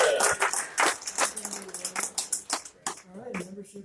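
A small audience at a radio club meeting claps for a raffle winner, a scattered run of hand claps spreading through the room, fairly faint and mixed with voices.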